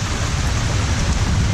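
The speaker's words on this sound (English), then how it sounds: "heavy rain." Heavy rain driven by strong storm wind, a loud, unbroken roar of dense downpour with no voices over it.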